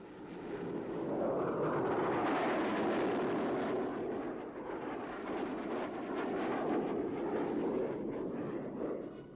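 A SEPECAT Jaguar jet flies past at the Farnborough air show, a loud sustained roar that swells and slowly fades, with a broad rumbling engine wash heard from a distance.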